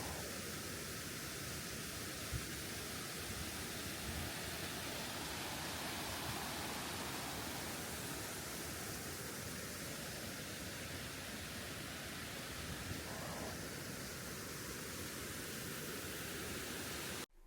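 A waterfall near Skjolden, Norway, heard as a constant broadband roar of rushing water that holds steady and fairly faint from start to finish.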